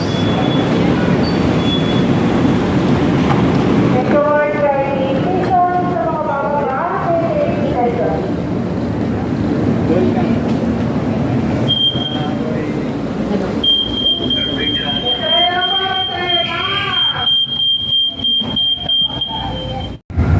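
A light rail train rumbles past steadily at close range, with squealing wheel tones and a sustained high metallic whine partway through.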